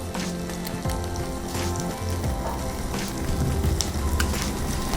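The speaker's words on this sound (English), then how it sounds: "We'll continue cooking the masala for another 5 minutes." Masala of roasted gram flour and coriander powder sizzles steadily in oil in a cooking pot, a continuous close crackle and hiss with no talking.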